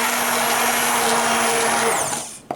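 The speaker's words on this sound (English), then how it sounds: "what's great about blending it like this is we're marrying the ground beef with all the flavors from that broth that I made" A blender runs at full power, blending ground beef with homemade broth into a thick mixture. It roars loudly and steadily for about two seconds, then winds down and stops abruptly.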